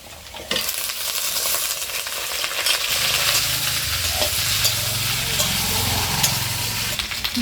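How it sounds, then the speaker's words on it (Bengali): Potatoes frying with onion stalks in mustard oil fill the pan with a steady, close sizzle and crackle that swells after a brief quieter start and holds loud and dense to the end. "পেঁয়াজকালিগুলো এই আলু ভাজার মধ্যে দিয়ে ভেজে নেব"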